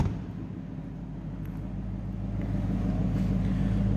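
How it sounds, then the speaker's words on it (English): The V8 engine of a 2012 Ford Mustang Boss 302 idles with a low, steady rumble, recorded up close and alone, rising slightly in loudness toward the end. "Great sounding car, sitting idling and or under power."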